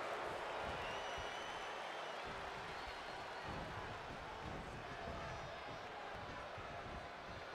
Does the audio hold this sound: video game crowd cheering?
yes